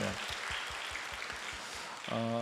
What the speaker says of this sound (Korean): 하나님께 박수를 한번 올려드리겠습니다